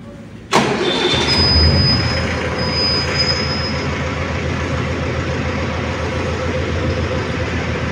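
A Mahindra Novo 605 DI tractor diesel engine cranks and fires up abruptly with the key, then settles into a steady, loud rumbling idle close by.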